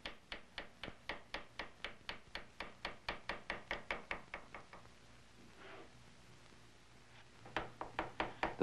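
An engraving chisel being tapped to cut a scrolled design into gun metal by a colonial gunsmith: a quiet, even series of sharp metallic knocks at a steady pace, which pauses briefly and then resumes, close and without talk.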